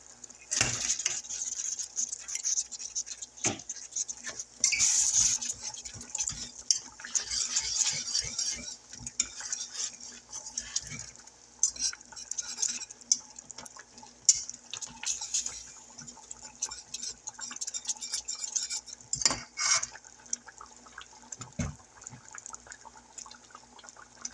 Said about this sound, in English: now walnuts going in, we got a cup. Roughly chopped